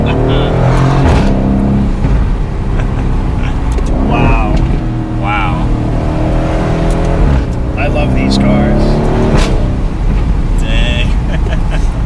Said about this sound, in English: I love that sound. It's such a muscular V8.